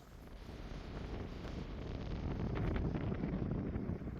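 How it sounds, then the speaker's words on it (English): Steady cold wind buffets the microphone outdoors during turkey season, a low, broadband rumble that swells slightly louder toward the end, with no voices present. "It's cold and windy."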